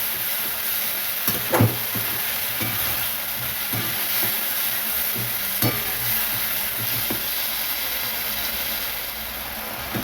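A spice paste of cumin, coriander, ginger, green chili, black pepper and Kashmiri chili powder sautés in a pan for a cabbage and small tangra fish dish, giving a steady broad hiss broken by occasional scraping clicks.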